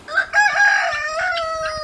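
Guinea fowl calling on a small farm, a loud close harsh cry rising and sustained over about two seconds, heard alone without talk.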